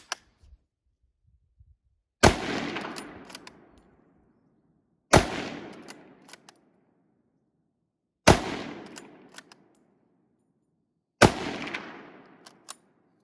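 Four loud, sharp rifle reports from a Kar98k chambered in 8mm Mauser, spaced about three seconds apart outdoors, each followed by a long fading echo, with no voices between them.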